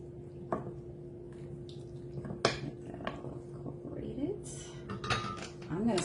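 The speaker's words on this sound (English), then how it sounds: "I'm gonna mix all of these noodles" Noodles being mixed for a baked vegan mac and cheese, with scattered clinks of a utensil against a dish, light scraping and soft kitchen clatter over a steady background hum, no talking.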